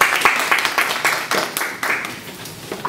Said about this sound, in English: So please give a big applause for him.